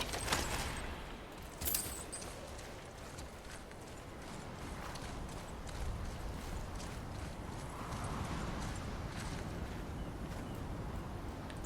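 Steady hoofbeats of horses in the video game God of War clatter in a continuous galloping rhythm with a faint jingle on top, moderately loud and unbroken throughout.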